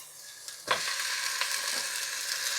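Deer meat dropped into a hot pan of roasted onions, bursting into a loud, steady sizzle with a sharp crackle at the drop and continuous frying hiss after, close up with no talk.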